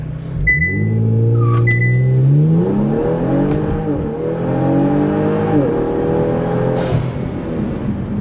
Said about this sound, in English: let's do a draggy pull. 0 to 60, launch.